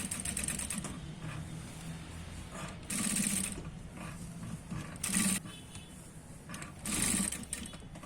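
A sewing machine stitches the bottom hem of a Patiala salwar about 1.5 inches up, running in several short bursts with mechanical clatter between quieter pauses, close and clear with no speech.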